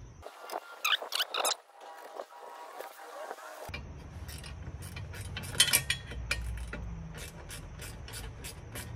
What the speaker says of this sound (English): I bought this nice little set of ratcheting wrenches at Harbor Freight.